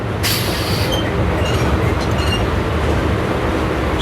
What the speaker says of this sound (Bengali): সমুদ্রগড় রেলওয়ে স্টেশনে এখন ট্রেন থেমে গেল